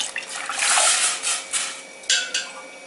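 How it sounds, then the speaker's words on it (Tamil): Water is poured into rice in a pressure cooker for a mixed rice dish, a bright splashing pour that surges and eases in a few bursts, with small metallic knocks near the end. "1 கப் அரிசிக்கு 2 கப் தண்ணி ஊற்றிக்கலாம்."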